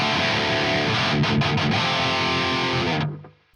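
A heavily distorted metal electric guitar riff runs through a JST Toneforge Disruptor set to a Rectifier amp tone, chugging densely and loud before cutting off abruptly at the end.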